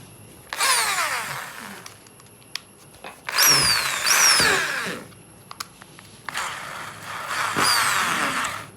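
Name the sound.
Bosch GSB 501 drill running forward and reverse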